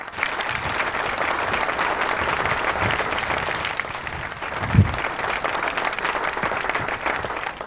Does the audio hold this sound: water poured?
no